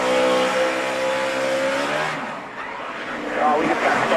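A NASCAR stock car spins out during a race, its loud engine drone falling away and then surging back. A voice talks over the roar.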